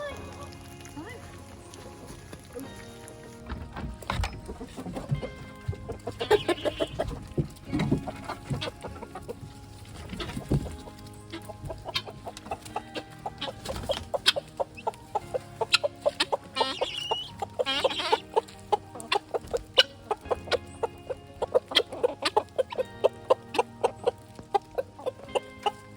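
Backyard chickens at a tiny woodland cabin in autumn cluck repeatedly, the sharp clucks growing more frequent and rhythmic toward the end, with a person speaking briefly at times.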